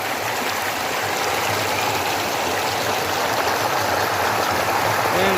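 Water spills over an overflow weir in a continuous, loud rushing wash, close and steady from start to finish with no voices over it.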